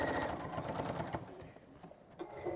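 A domestic sewing machine runs a short burst of stitching through fabric with a quick rhythmic mechanical chatter, close by and fairly quiet, then slows and stops after about a second and a half.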